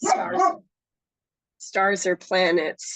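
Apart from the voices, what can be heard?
dog barking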